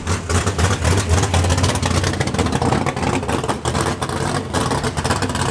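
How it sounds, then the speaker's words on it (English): Loud, roaring race car engines run continuously and rev throughout, a dense, close-up mechanical din with no pauses. "the cars are so loud"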